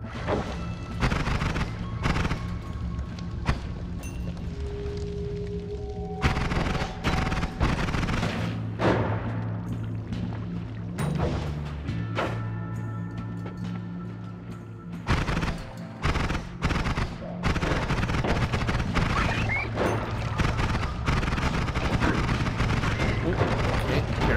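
Explosions in the video game Noita come as repeated sharp bursts and crackling blasts over a constant rumble, scattered through the stretch with some louder clusters.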